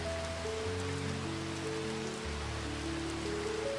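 Gentle rain falling in a steady, soft hiss of drops on a surface, faint and even throughout, with no voices.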